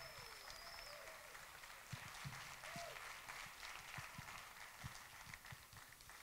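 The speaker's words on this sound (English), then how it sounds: "get another round of applause for Cat Daddies" Audience applause after a film festival screening of a documentary, steady clapping from a crowd filling the whole stretch, moderately distant with scattered louder claps.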